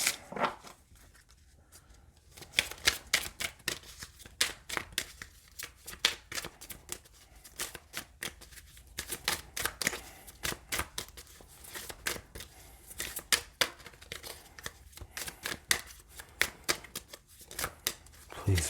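Tarot cards shuffled close by during a reading, a steady run of quick papery riffles and flicks that repeats through the whole stretch, with soft speech now and then.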